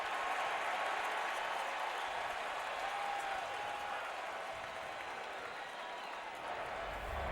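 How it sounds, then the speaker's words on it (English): Steady roar of a stadium crowd at an NFL football game, the Dallas Cowboys at the Denver Broncos, a dense, continuous wash of cheering and applause at even loudness throughout, with no single voice standing out. "There is a lot of crowd noise down there"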